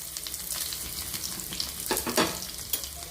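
Dried red chillies with chopped shallots and mustard seeds crackle and sizzle in hot oil for a mango chutney, a steady close frying hiss with a few sharper pops near the middle, no voices.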